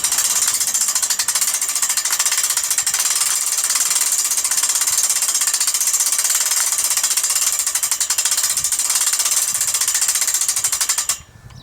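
A washing line winch ratchet clicks rapidly and continuously, loud and close, as line is wound onto the spool, stopping abruptly at the end.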